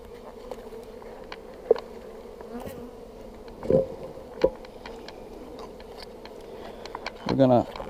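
Honeybees hum steadily at a beehive while bee packages are installed, with a few sharp thumps and knocks from handling the hive equipment close by.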